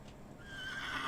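A horse in a video game lets out a single whinny, rising and wavering, fairly quiet and heard alone.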